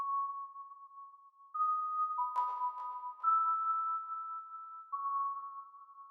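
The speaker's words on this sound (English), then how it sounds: "a sine bell, which is a sine wave that I made inside Serum again" Sine-wave bell synth built in Serum and drenched in heavy reverb rings out as sustained, pure bell tones shifting between a few pitches, with a brief shimmering burst partway through, alone and fairly soft.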